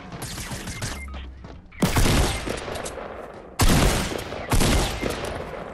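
Fortnite video game gunfire and sniper shots in loud bursts: a dense volley, then sharp cracks opening three separate sustained barrages of shooting, with little talk.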